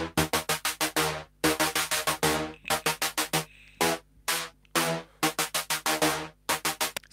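Synth lead track in an electronic music production, loud staccato chopped notes in rhythmic bursts with brief gaps, played alone.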